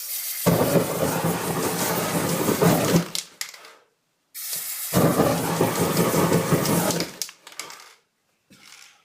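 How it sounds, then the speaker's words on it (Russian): An aerosol can of lacquer sprays over fresh spray paint to dry it: two loud, close hissing bursts of about three seconds each, separated by a short pause, with small clicks and rattles after each burst. "В данном случае я подсушу немного лаком, чтобы ускорить процесс."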